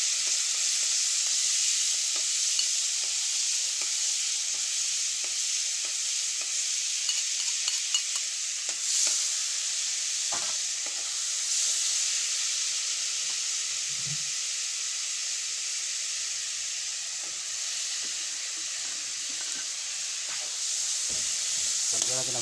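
Steady loud sizzle of butter and cooking oil sautéing in a hot pan, with occasional stirring and scraping sounds and a brief voice partway through.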